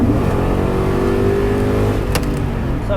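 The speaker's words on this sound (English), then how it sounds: "What the Trailblazer sounds like inside, just with the full exhaust headers and all that stuff" A deep 408ci LS2 stroker V8 in a Trailblazer SS with full exhaust headers rumbles loudly from inside the vehicle, revving up in a short pull with a throaty exhaust note.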